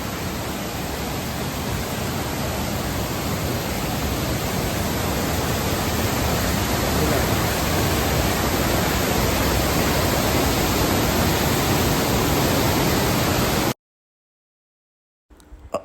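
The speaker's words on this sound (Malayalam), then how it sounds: "ഇതാണ് ശരിയായ വെള്ളച്ചാട്ടം" A loud, steady roar of rushing water fills the air without pause, dense and unbroken, then cuts off abruptly near the end.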